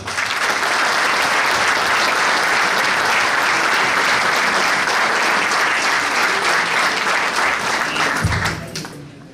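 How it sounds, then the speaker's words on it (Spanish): Warm, sustained applause from a political gathering marking 125 years of the Unión Cívica Radical fills the space, loud and dense, welcoming a speaker before tapering off at the end. "lo recibimos calurosamente con este aplauso"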